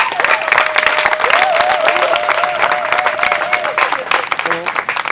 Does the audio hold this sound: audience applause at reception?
yes